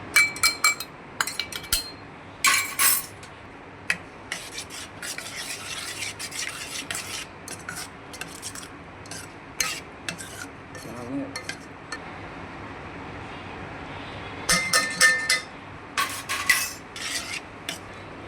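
Grated raw mango being mixed with desi and Kashmiri chilli powder and other spices for pickle, heard as repeated clinks and scrapes of a spoon against a bowl in bursts, with a voice talking at times.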